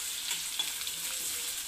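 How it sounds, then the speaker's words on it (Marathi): Green chilies sauté in hot oil in a pan, a continuous close sizzle with light stirring scrapes throughout. "मिरची थोडीशी परतली गेली नंतर कांदा घालायचा आहे"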